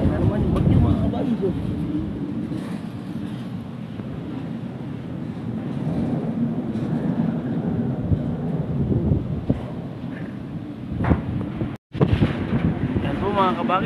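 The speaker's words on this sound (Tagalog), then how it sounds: "Yan po mga kabay, sa lakas ng hangin," Strong, constant typhoon wind (Typhoon Ulysses) roars and buffets the microphone, with voices partly audible beneath the heavy rumble.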